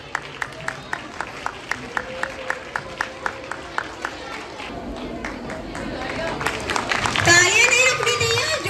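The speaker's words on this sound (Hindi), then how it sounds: "A huge round of applause." A crowd at an astronomy lab inauguration claps in a steady rhythmic beat, evenly spaced claps that swell into louder applause and cheering as a voice speaks over it.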